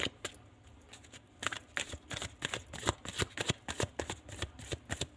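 Tarot cards being shuffled and drawn by hand during a reading, a rapid run of crisp riffling snaps and slaps, close and fairly loud, with no talking.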